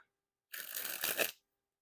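Art of Play Red Lucky Draw playing cards being shuffled, a dense burst of crisp riffling clicks lasting under a second, close and alone after brief quiet.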